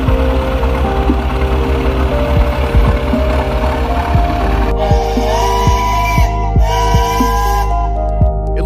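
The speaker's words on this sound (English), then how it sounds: "A unique rotating snow sweeper can turn on its own center and still clear the path with" A historic steel mill locomotive fitted as a rotating snow sweeper, preserved at an Ohio museum, runs with a loud, steady engine rumble and rhythmic knocking thumps, with a whistle-like tone sounding in the later seconds.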